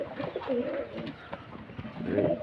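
A male Lakkha (peacock-tail) pigeon in a loft coos close by in a few low, rolling phrases, with faint bird chirps behind.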